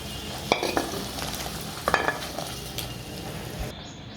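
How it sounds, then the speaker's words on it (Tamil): Okra goes into a South Indian buttermilk curry simmering in a pan and is stirred, with a spoon clacking against the pot a few times over a constant bubbling, sizzling background. "இதுலேயே இப்போது வெண்டைக்காயும் ஆட் பண்ணிக்கலாம்."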